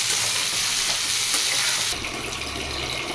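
Onions frying in a pan until brown, a steady broadband sizzle throughout, a slightly softer hiss in the second half.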